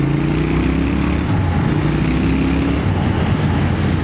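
Triumph Thruxton motorcycle with new exhaust idling and revving steadily, a loud continuous engine drone with a low throbbing tone close by, no talking.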